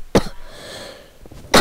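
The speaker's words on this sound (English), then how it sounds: "Man, I'm really coughing today." A person coughs twice, a sharp burst at the start and another at the end, with faint background noise between them while playing a Minecraft spleef game.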